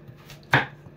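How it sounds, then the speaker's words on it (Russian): A single sharp knife chop through something firm on a cutting board, loud and close, with a quiet room before and after. "Пополам режем картошку."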